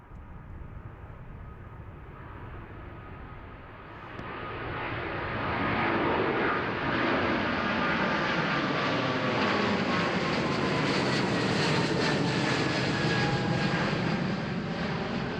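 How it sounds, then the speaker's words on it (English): United Boeing 777-200ER jet bound for San Francisco at Amsterdam Schiphol, engine roar building from a moderate rumble to a loud, sustained whine and rush as it nears and passes, no voices. "And next in the lineup we got a United 777-200 ER, and it is going to San Francisco."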